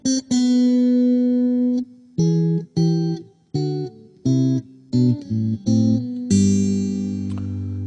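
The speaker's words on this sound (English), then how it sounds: "I'm going to try to dial this in here with a little reverb and get sort of an acoustic sound out of it." Guitar played through a Roland Cube amp on its acoustic setting with reverb: a sustained note, then a series of short strummed chords with brief gaps, ending on a ringing chord that fades out, clean and close.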